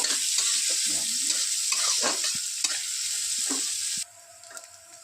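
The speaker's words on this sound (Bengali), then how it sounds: "পেঁয়াজ কুচিটাও দিয়ে দেবো কড়াইতে। ভালো করে ভেজে নেব" Chopped onions with green chillies fry and sizzle in a wok while being stirred, a close, steady sizzle with scraping spatula strokes that drops suddenly quieter near the end.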